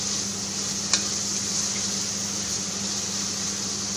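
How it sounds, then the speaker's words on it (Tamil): Onions sautéing in a pan for a Chettinad chicken thokku, a steady soft sizzle with a constant low hum, plus a single brief utensil tap, with no talk. "ஸோ வெங்காயம் கொஞ்சம் ப்ரௌன் ஆகிற வரைக்கும் நம்ம வதக்க போகிறோம்."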